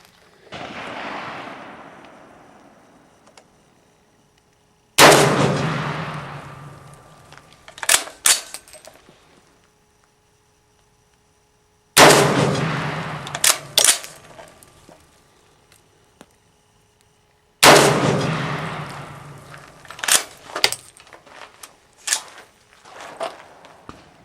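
300 AAC Blackout rifle fired with a Winchester 296 powder load through an 18-inch barrel, four sharp loud shots spaced several seconds apart, each followed by a decaying echo outdoors.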